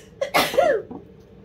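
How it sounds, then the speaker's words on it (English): A single sharp sneeze, close and loud, with a quick inhale before it and a brief voiced trail after. "Made me sneeze."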